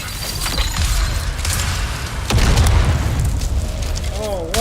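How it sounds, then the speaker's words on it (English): Grenade explosions in a first-person shooter game burst out as heavy booms and crackling blasts over a continuous noisy battle, with players talking over the action. "Oh! Grenades? That's what that was?"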